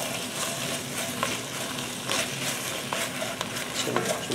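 Sweet onions with sugar sizzling in a pan as they are stirred around, a continuous close crackle and hiss broken by soft scraping knocks from the stirring, with no talking.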